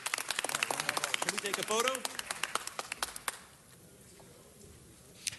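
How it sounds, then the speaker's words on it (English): Audience applause at a Los Angeles City Council presentation for CalFresh Awareness Month, a burst of clapping in a large room that fades out over a few seconds, with people talking through it. "Give these great folks a round of applause for their hard work."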